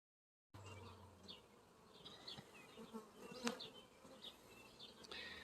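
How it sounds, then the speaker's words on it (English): Bees buzzing around hives in a small, untidy bee yard on a permaculture homestead, a steady low outdoor hum with individual insects passing close now and then. "here is the bees. This is one of the little bee yards."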